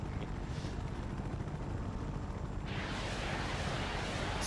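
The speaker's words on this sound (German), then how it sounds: "Der Helikopter geht im Berg rein." A helicopter in the action game Just Cause 3 slams into a mountain, a loud continuous roar of rumbling, crashing noise that grows brighter and harsher partway through.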